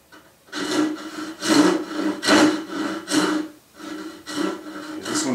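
A Japanese rip saw cuts joinery pins for a welding cart in about eight steady, rasping push-pull strokes, each one close and moderately loud, with brief pauses between them.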